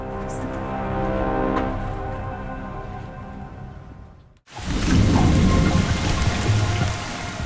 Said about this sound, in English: A heavy rain soaks a small airport in Dubrovnik, Croatia.